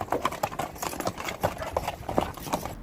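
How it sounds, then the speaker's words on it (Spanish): Hard techno kick drum pattern with a galloping, horse-like rhythm, a quick run of punchy, evenly repeating thumps played fairly quietly without voices. "así es como creo yo el pum, pum, pum, pum, pum, pum, pum, como el cabalgar del caballo"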